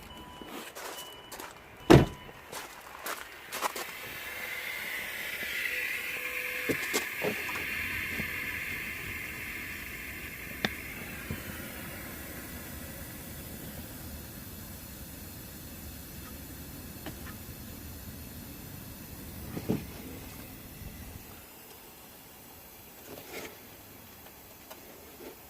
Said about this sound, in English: I hope that whistling noise comes on camera.